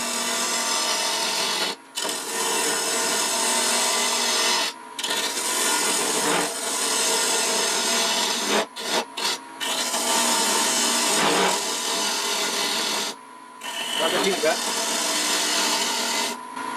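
A 1/2 inch spindle gouge cutting spalted wood spinning on a lathe, a continuous rough scraping hiss broken by several short pauses as the tool lifts off.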